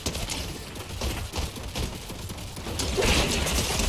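A turret in a video game fires in quick, rattling bursts, a busy mechanical clatter of shots that grows slightly louder toward the end.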